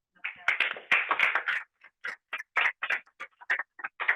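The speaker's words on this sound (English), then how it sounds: "Let's give Juani and Kevin a round of applause" Sparse clapping from a small group at a workshop, separate claps coming in short bursts that thin into scattered single claps, close and fairly clear.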